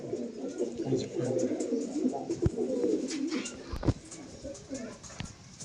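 Madrasi pigeons coo in low, repeated throaty murmurs close by, layered over a steady ambient background with a few sharp knocks and voices talking now and then.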